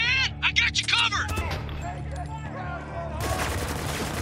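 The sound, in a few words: gunfire in the video game Spec Ops: The Line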